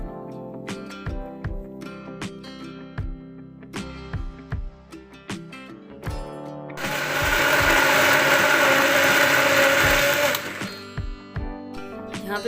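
A blender purees roughly sliced medium tomatoes in one loud, steady whir lasting several seconds, set between quieter kitchen clatter and background music.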